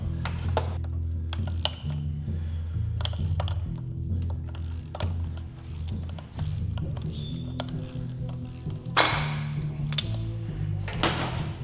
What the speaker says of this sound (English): that little pan is where I usually start putting all these bolts in